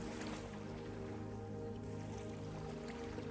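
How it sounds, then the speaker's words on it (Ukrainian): Sea surf washes onto a beach in a continuous, even rush of waves, moderately soft, with a gentle tonal drone underneath. "ви чуєте шум прибою"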